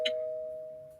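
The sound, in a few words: doorbell ringing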